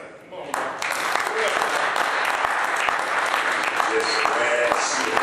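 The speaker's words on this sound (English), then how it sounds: "we have to give these young people a round of applause" Loud, sustained applause from a church congregation for a group of young people, starting abruptly and holding steady with crisp individual claps and some voices in the crowd.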